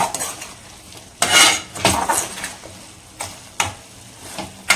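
A utensil stirs dried fish masala in a metal pan, with several loud scraping clinks spaced irregularly over a soft sizzle, close-up and without talk.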